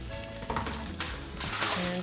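A Monte Cristo sandwich sizzles on a hot griddle after being flipped, a soft steady hiss with brief crackles rising toward the end.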